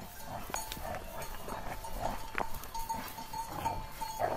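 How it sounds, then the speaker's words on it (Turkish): Bleating of a flock of sheep carries across an open outdoor space in winter, scattered calls over steady background noise with faint animal sounds throughout. "muhtarın koyunlarını otlatmaya götüren garip çoban Yılmaz"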